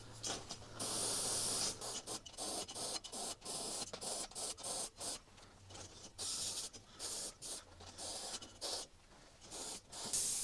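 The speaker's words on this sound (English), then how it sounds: "I like to move it around as well when I'm spraying, give you a bit of a different effect." An airbrush sprays paint through a texture template, giving close hissing bursts of varying length separated by brief pauses and a faint mechanical hum, with no talking.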